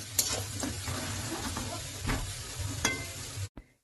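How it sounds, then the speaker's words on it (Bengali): Potatoes fry in a pan while being stirred, a continuous crackling sizzle broken by several sharp spoon scrapes against the pan, close by, cutting off abruptly near the end. "এবার আলুটাকে নেড়ে চেড়ে লাল করে ভেজে নিতে হবে"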